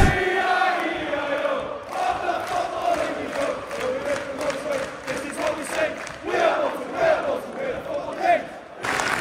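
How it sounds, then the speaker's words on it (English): A football crowd applauds at half time during Barnsley vs Bolton, a dense roar of clapping and cheering from a large away-match crowd, steady and loud throughout with chants and voices mixed in. "as you can see from the round of applause, that is half time"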